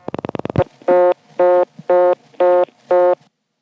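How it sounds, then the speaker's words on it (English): A 1976 XY step telephone exchange in Fayetteville, Pennsylvania: a quick burst of rotary dial pulses gives way to a loud, buzzy reorder tone repeating in five even on-off bursts. "You pick up your phone, dial a digit, and the moment your dial returns to rest, there is a reorder tone."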